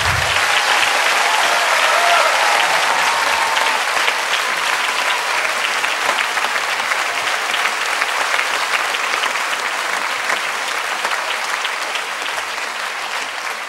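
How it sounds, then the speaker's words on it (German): Loud, long applause from the audience at a live reading of Reckless in Hamburg. Dense clapping holds for about fourteen seconds and eases slightly toward the end. "Euer Applaus."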